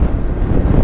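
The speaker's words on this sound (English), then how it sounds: "That was a good old gust of wind." Strong wind gusts buffet the rider of a 2005 BMW R1200GS motorcycle while crossing a bridge, a steady, loud roar of rushing air against the helmet with low rumbling throughout.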